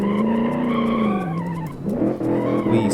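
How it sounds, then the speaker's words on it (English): A 1956 Silverton concept car shifts into first and accelerates hard around a final corner, its engine note loud and close, dipping briefly mid-run before rising again, with faint tire squeal. "shift back into first, mash the throttle, and go around the final corner"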